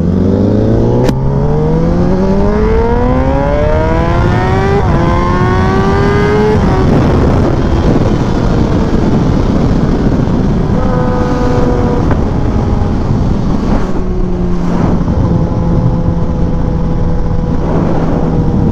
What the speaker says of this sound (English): That was like quarter throttle rolling into it, and the bike was like still coming up a little bit.